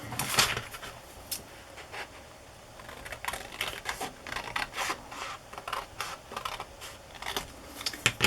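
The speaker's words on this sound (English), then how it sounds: "I'm going to cut this off." Scissors cut through 12x12 scrapbook paper in a string of quick, crisp snips with short pauses between them, close and fairly quiet.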